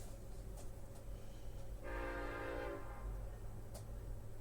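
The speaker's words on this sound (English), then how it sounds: "Can you hear the train?" A train horn sounds in one sustained blast of roughly a second, cutting over a steady low rumble of passing rail cars, with a few faint clicks before and after.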